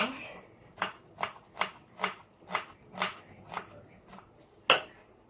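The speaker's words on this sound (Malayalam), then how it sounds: "ഞാൻ വേഗം വേഗം കട്ടാക്കട്ടെ" Rapid knife chopping of vegetables on a cutting board in a home kitchen, about nine sharp, evenly spaced chops close by, the last one louder, with no talk.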